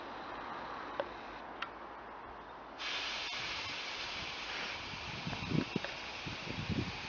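Air hissing through the air shock valve on a Volkswagen Beetle suspension, a steady close hiss that grows louder partway through, with a few faint clicks and knocks.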